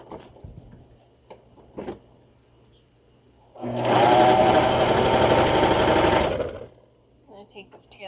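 A sewing machine stitches a side seam in knit fabric, a loud steady mechanical whir running for about three seconds, preceded and followed by quieter handling noises and brief speech.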